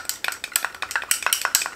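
Pumpkin powder and enzyme face mask ingredients being mixed in a small container, a quick run of close scraping, clinking stirring strokes repeating in an uneven rhythm with no voices.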